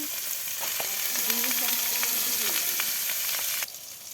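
Ground spice paste with dried shrimp fries in a pan: a continuous loud sizzle and hiss with faint scraping stirs, cutting off near the end.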